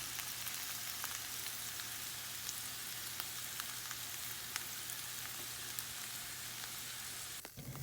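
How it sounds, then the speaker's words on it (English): Hash brown potatoes stir-frying in a pan give off a steady, fine sizzle with faint scattered crackles, continuous and fairly quiet, ending with a brief clatter near the end. "I just started by stir-frying some hash brown potatoes."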